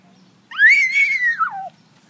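A single loud bird call by a backyard swimming pool, one rising then falling whistled note lasting about a second, close and alone against quiet background.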